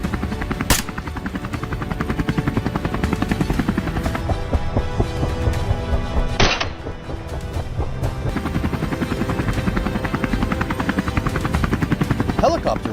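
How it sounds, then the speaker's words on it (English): Loud, close helicopter used for boar hunting, with a constant thumping rotor and whining engine, continuous throughout with a brief dip midway. "the sound of the helicopter sent the boars into"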